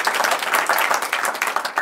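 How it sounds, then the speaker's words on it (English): A live audience of about 120 people claps together in a room, a dense, even burst of applause lasting a couple of seconds, close and fairly loud. "Clap, everybody."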